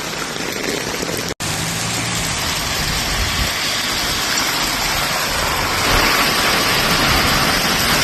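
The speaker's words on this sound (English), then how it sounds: "Esto es granizo a muerte." Hail pours down hard during a storm in Malaga as a dense, loud, steady hiss of impacts that swells slightly toward the end.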